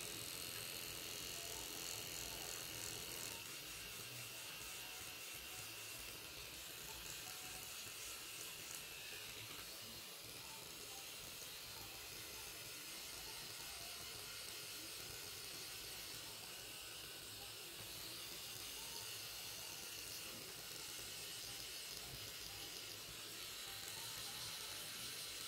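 A Syska FT006 women's electric trimmer runs on eyebrows with a faint, steady mechanical whir that continues throughout, while a person speaks intermittently in the background.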